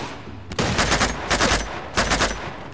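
Three loud shotgun blasts in Uncharted 2, spaced about a second apart, each with a short ringing tail over a low background rumble.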